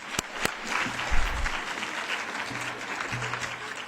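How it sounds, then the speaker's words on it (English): A round of applause for the interpreters at a townhall meeting of an annual summit, a roomful of people clapping steadily for a few seconds with a few sharp claps at the start. "which I think is a round of applause for them."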